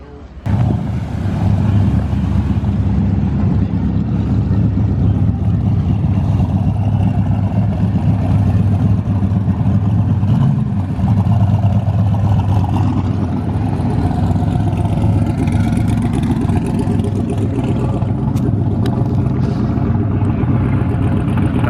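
A loud old-school straight-six car engine rumbles steadily close by at Daytona International Speedway during the Turkey Run car show, a deep continuous drone with slight swells in revs and wind buffeting the microphone.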